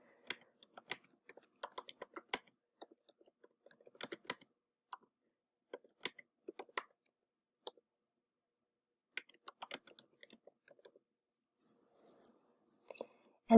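Typing on a computer keyboard, scattered quiet key clicks in irregular bursts with short pauses, close and faint, no voices.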